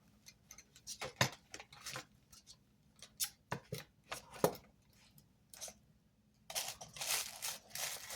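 Scissors cut away the excess from a paper cup in a run of close, crisp snips and papery crunches with brief pauses, ending in a longer rustling cut.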